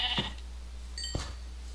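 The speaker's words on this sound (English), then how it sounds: "Come here, sheep. Give me your wool." Two short bleats from a Minecraft sheep in the FTB Infinity modpack, one at the start and one near the end, soft and alone over a steady low hum.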